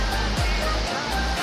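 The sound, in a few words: waterfall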